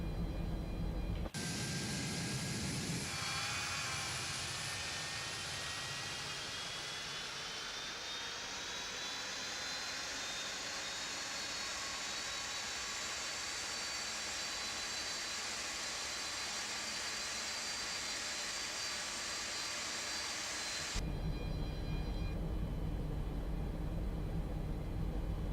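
A Boeing 747 Classic jet engine spools up in the X-Plane 11 flight simulator, a rising whine climbing steadily in pitch over a broad roaring rumble, loud and continuous for about twenty seconds before cutting off abruptly.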